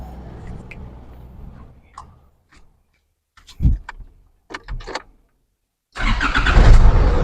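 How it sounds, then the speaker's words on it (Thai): A 2013 Isuzu D-Max Spacecab 2.5 diesel pickup with manual gearbox: a few clicks and faint thumps, then the engine cranks and catches into a loud, steady rumbling idle close by. "เดี๋ยวสตาร์ทให้ดูนะผม"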